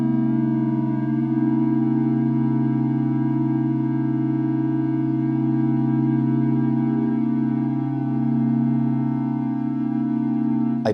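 A sustained OVUM analog synthesizer drone holds steady harmonic tones, with a Korg NTS-1 reverb wash widening the sound; a subtle pitch shift near the start, then a quick cutoff at the end.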